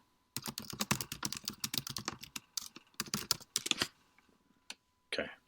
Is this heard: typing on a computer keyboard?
yes